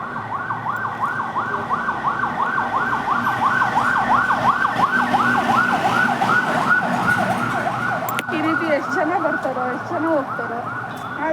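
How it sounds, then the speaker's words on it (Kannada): An ambulance siren wails in a steady, rapid rising-and-falling cycle, loud and close, holding for several seconds before the pattern shifts near the end. "ಆಂಬ್ಯುಲೆನ್ಸ್"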